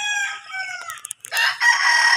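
A rooster at a game farm in San Pablo, Batangas crows loudly and close by, a long drawn-out call followed by a few short clucks and another bright crow.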